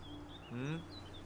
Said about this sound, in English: It's lovely out here. The birds singing, the bees buzzing.